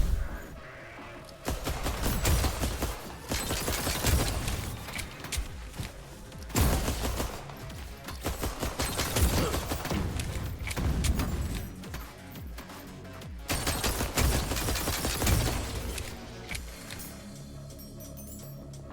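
Rapid gunfire from the sci-fi shooter game Galactic Vault comes in dense bursts, several long volleys separated by brief pauses, loud and continuous without talking.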